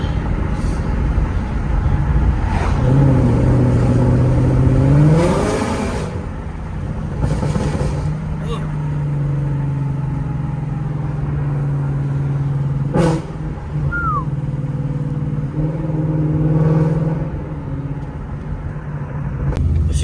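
A Ford Mustang GT with a Borla exhaust drives along a bumpy road under construction. A steady low engine drone rises and falls with a few throttle swells, heard close from inside the car with occasional thumps.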